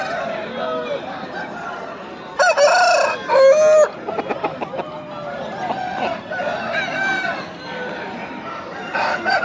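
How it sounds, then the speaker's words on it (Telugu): Chickens and roosters at a busy pet market, with loud repeated crowing and clucking up close over steady crowd chatter and a voice. "చూడండి, కోళ్ళు అనేది చాలా కోళ్ళు అనేది వచ్చాయి."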